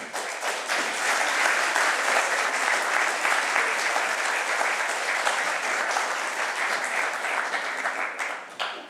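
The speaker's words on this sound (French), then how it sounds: "Vous pouvez l'applaudir." A conference audience gives sustained, dense applause, many hands clapping evenly for several seconds before it thins out at the end.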